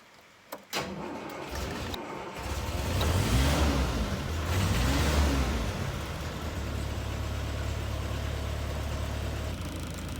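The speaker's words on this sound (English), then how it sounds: "So I think I'll just run the engine for a bit and try warming it up" Car engine started and left running to warm up while troubleshooting dead gauges and voltage regulator problems, a few clunks and then a steady low rumble that swells briefly before settling into an even idle.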